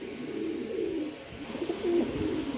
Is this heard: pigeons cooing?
yes